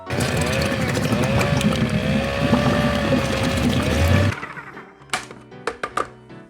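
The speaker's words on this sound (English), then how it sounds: "Now we will toss the beans into the processor. And finally, we will process." Food processor whirring through drained, rinsed canned beans: a loud continuous motor roar for about four seconds that cuts off abruptly, followed by a few clanks of handling.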